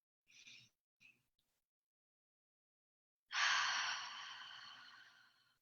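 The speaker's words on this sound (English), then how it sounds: "you'll breathe in through the nose and out through the mouth" A person does deep breathing, in through the nose and out through the mouth: two short sniffed inhales, a pause, then one long, slowly fading exhale, close and quiet.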